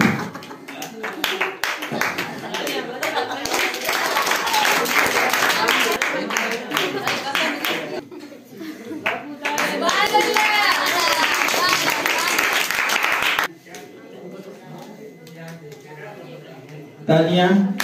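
Audience applause at a school Iqbal Day celebration, a long spell of steady clapping that swells, pauses briefly, and resumes, with voices talking over it toward the end.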